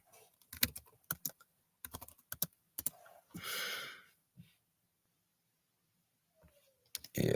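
Bursts of clicky typing on a computer keyboard, close and fairly quiet, with pauses and a brief breathy sound in between.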